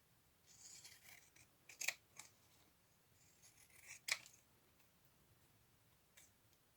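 Scissors cut a paper stamp down to a smaller size, giving a few quiet, crisp snips, two of them sharper and louder, against a near-silent background.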